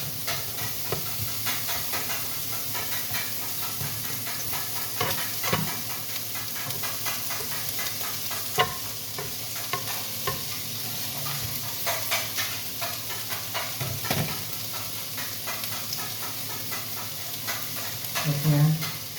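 Onions sizzling and hissing in a pan of pasta broth, stirred now and then, a steady close frying texture with occasional clanks, while voices talk faintly over it.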